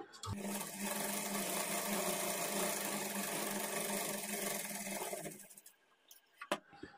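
A sewing machine runs a continuous whirring stitch along the edge of blouse lining fabric for about five seconds, then stops, followed by a few light mechanical clicks.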